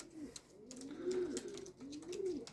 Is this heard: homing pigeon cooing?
yes